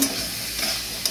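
Soya chaap masala is stir-fried in a hot pan with Kashmiri chili, giving a short burst of steady, close sizzling hiss with light scraping of a spatula.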